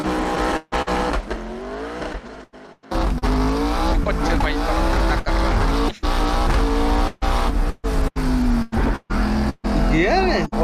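A Ford Mustang with a sequential gearbox drifts, its engine revving hard and rising in pitch while the tires squeal, broken by brief cuts and gaps, with voices talking over the noise.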